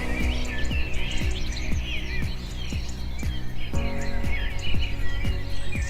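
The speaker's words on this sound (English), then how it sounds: "cockatoo" A cockatoo calls in repeated warbling, chirping phrases, fairly close and steady over a faint, regular ticking beat.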